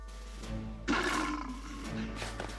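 A Disney stock roar from a My Little Pony: Friendship is Magic cartoon, voiced for a creature resembling a lion, bat and scorpion cross: a loud, rough roar bursting in mid-clip and sustaining over a low background hum.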